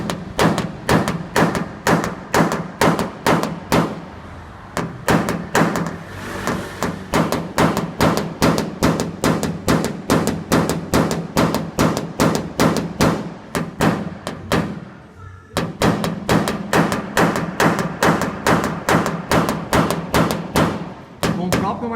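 A hammer taps out a dent in a car body panel during paintless dent repair, striking in a fast, steady rhythm of loud, even knocks, with two brief pauses and the same force on every blow.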